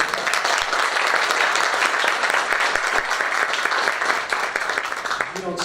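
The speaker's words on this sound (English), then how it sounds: "We'll give you another round of applause." Dense, steady applause from an audience at a school district board meeting, many hands clapping loudly and continuously throughout with a few voices mixed in.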